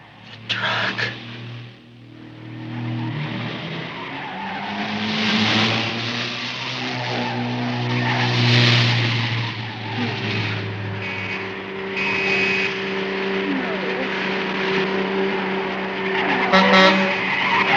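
A car skids out of control with tires squealing, mixed with engine revving and a shrill horn-like wail. The sounds rise and fall over a long, loud stretch in a 1963 film scene.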